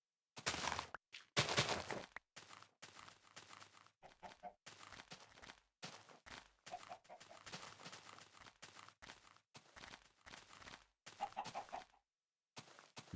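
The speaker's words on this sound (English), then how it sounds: "Do chickens move away from you?" Blocky Minecraft chickens cluck in short, repeated bursts of game sound with brief silent gaps between them, close and clear, with no talk over them.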